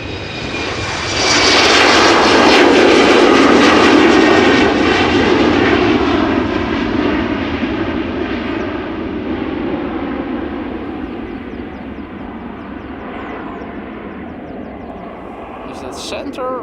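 A fixed-wing airplane takes off at Amsterdam Schiphol Airport under overcast sky, a loud roaring engine rising quickly then slowly fading as it recedes, with a voice speaking over it.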